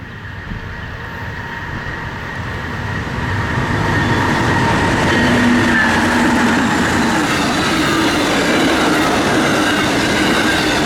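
An Amtrak passenger train led by an ALC-42 locomotive passes close by, with a steady loud rumble of wheels and rail noise that builds over the first few seconds and holds.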